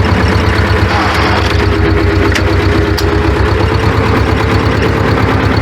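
A tractor towing a slurry tank pulls off slowly across a field to spread liquid manure before potato planting, its loud steady engine drone continuous and close throughout.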